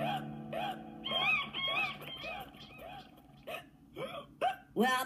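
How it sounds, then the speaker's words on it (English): A cartoon character hiccups repeatedly in a squeaky, uneven rhythm, the voiced hiccups rising in loudness toward the end and mixed with vocal sounds. "To help you get rid of your hiccups."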